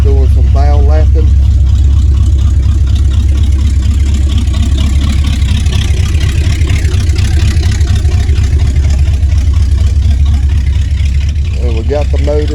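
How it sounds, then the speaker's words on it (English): A Vortec 350 V8 in an old maroon Chevy truck runs after a cold start with a loud, deep, steady idle right up close, while someone talks over it at the start and end. "And we got the motor Vortec 350 in the old maroon Chevy."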